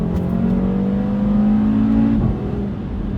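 A 2018 Audi RS3 Sportback engine revs loudly and steadily with a rising drone, then the pitch drops as the driver shifts, the roar continuing at a lower level.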